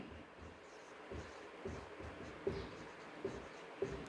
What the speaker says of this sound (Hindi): तो अभी मैं यहाँ पर लिखता हूँ कि सैलरी